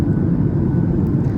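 Steady low roar of a Qatar Airways airliner cabin in flight, a loud continuous engine and airflow rumble with no voices.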